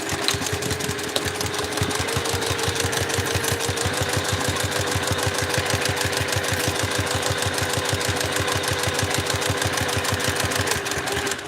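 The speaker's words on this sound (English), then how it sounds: "So let's sew the flap." A sewing machine runs steadily, stitching the curved flap of a Tony Tony Chopper backpack in a rapid, even mechanical rhythm that holds loud and close throughout, with no talking.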